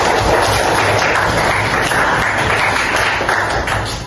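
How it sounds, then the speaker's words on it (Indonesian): A seventh-grade class applauds together in a classroom, a steady wash of many hands clapping at fairly close range that holds evenly and fades slightly at the end. "Tepuk tangan kita semua"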